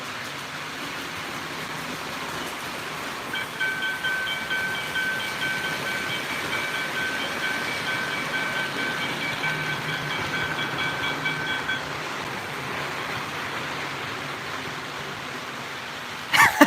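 O gauge model trains running on a layout track give a steady, moderate mechanical rumble and whir, with a faint thin tone appearing midway. The sound is heard alone until an abrupt clatter at the end.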